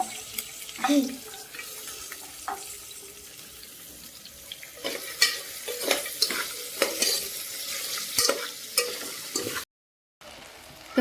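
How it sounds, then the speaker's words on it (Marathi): Rice with potato, cauliflower, carrot and peas frying in oil in a home kitchen, giving a steady, fairly quiet sizzle broken by repeated scraping stirs, with no talking. "आता तेलामध्ये राईस फ्राय झालेला आहे"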